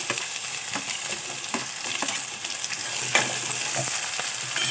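Cucumber, onion and green chillies frying in a pan while being stirred, a continuous close sizzle with regular soft scraping strokes, moderately loud, with no talking.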